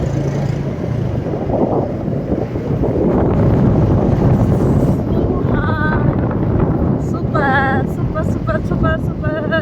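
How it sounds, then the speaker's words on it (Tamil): Strong wind roars steadily across the microphone at night on a bridge, with a vehicle moving beneath it and faint tonal sounds near the end. "நைட்டு நல்லா குளு குளுன்னு, நல்லா பயங்கர காற்று, குளு குளு காற்று"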